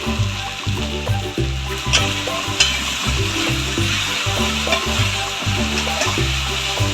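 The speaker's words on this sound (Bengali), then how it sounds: "আদা রসুনটা ভালো করে কষাতে হবে" Ginger garlic paste sautéing in a pan with salt for an egg masala curry, loud continuous sizzling with repeated rhythmic scraping strokes of a spatula, close and unbroken.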